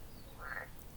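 A frog croaks once on a night scene in a cartoon about a frog concert, a short, faint croak alone in a quiet background.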